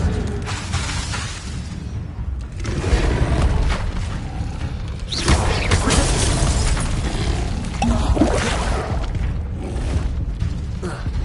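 Fire spell blasts from the wizarding game Hogwarts Legacy: loud booming bursts and crackling impacts that come in surges over a dense, continuous game soundscape, with no talk.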